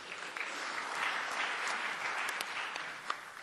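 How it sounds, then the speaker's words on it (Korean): A church audience gives a hearty round of applause to welcome two pastors, a dense, even crackle of many hands clapping that holds steady throughout. "힘찬 박수로 환영해 주셨으면 감사합니다"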